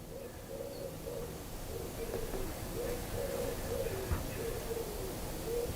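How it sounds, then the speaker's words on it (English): Birds, likely pigeons, coo repeatedly inside a chimney of an abandoned building, a soft rhythmic cooing set against a steady hiss of background noise, moderately close, with no talk. "It's just birds in the chimney, isn't it?"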